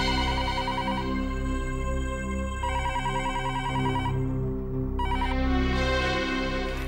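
A telephone rings indoors in repeated electronic bursts with a short pause between them, loud and close, while a low musical drone plays underneath.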